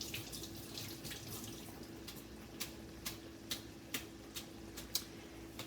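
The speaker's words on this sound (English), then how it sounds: "So we're going to rinse this." Greens are rinsed under a running kitchen tap, a steady soft hiss of water with a low hum beneath and a few faint clicks or drips at irregular intervals toward the end.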